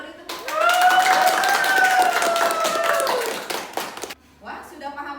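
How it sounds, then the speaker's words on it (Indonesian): Students in a classroom clap together, a burst of mixed hand claps under loud voices and cheering, fading out toward the end. "Beri tepuk tangan."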